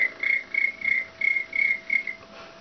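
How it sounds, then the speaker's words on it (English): A cricket chirps in a steady series of short, evenly spaced pulses, about seven bursts in quick succession, clear and alone against a quiet background. "Cricket."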